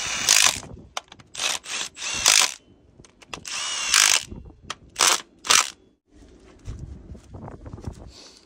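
Impact wrench during heavy truck repair, heard as a series of short, loud rattling bursts separated by brief pauses, close by, followed by quieter shop noise.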